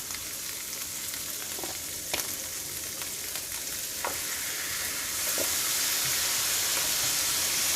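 Soy sauce hits a hot hibachi griddle of shrimp fried rice, giving a steady loud sizzle with a few scraping stirs, the hiss swelling brighter toward the end.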